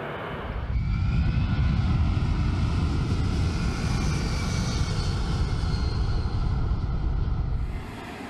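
A Boeing C-17 Globemaster military transport plane roars steadily and loudly at close range, its engines a broad, sustained drone that holds for several seconds before easing off at the end.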